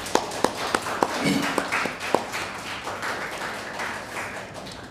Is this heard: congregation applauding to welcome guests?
yes